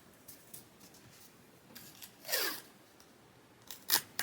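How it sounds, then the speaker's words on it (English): Tape is torn off to hold embroidery fabric down in a machine embroidery hoop while making coasters. It comes as a quiet, close, sharp ripping stretch with a few small crinkles and a short tear near the end. "I'm going to go ahead and tape mine down."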